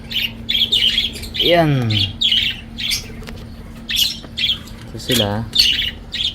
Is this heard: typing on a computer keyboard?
no